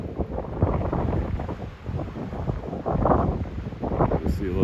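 Strong, roaring wind gusts buffet the microphone outdoors on a stormy, snowy day on an Alaskan coast, swelling and easing continuously while someone talks over them.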